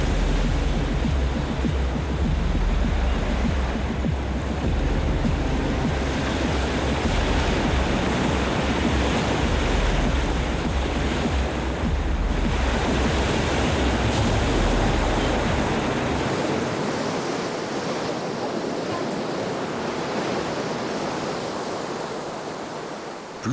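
Sea swell pushed in from the Atlantic surges onto the shore in a steady, loud, broad roar that churns for over twenty seconds, with the deep rumble fading toward the end.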